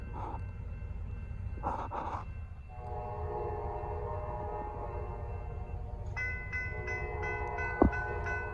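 A Norfolk Southern freight train passes at night ahead of a snowstorm, its steady rumble of rolling cars and engine drone filling the scene, with tonal horn-like bands rising and a sharp squeal near the end.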